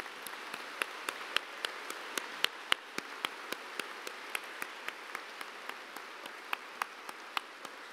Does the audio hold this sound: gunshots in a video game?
no